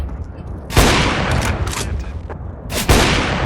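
Loud bursts of rapid gunfire from the video game CS:GO, two sharp volleys with rattling fire in between, close and dominant over faint background.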